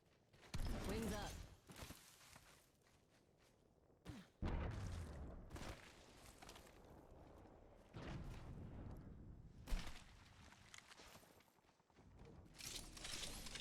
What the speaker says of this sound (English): And I hear gunfire.